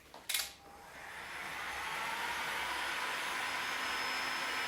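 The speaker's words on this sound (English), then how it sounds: "Come back with your heat gun to make sure that like all parts of the trim is having good adhesion to the surface." Heat gun warming plastic trim to improve adhesion, a short click and burst as it starts, then a steady rising blower whoosh that settles into a constant close airy roar with no speech.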